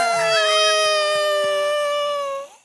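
A person imitates a flying squirrel's voice with a high, wavering squeal that slides and trembles, then fades out over a couple of seconds, close and clear.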